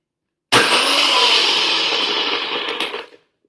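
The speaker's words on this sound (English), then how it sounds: "Now I'm going to blend it." A blender motor roars loudly for about two and a half seconds, steady and harsh, with a rattling grind of ice being crushed, then cuts off.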